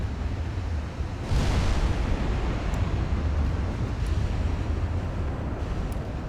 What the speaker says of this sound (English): Our battleship 16-inch guns are going at them.